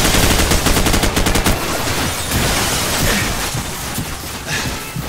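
Loud, close bursts of rapid automatic gunfire and explosions in Call of Duty 4: Modern Warfare fill the whole stretch. A dense volley comes first, then a continuous rumbling barrage of shots and blasts.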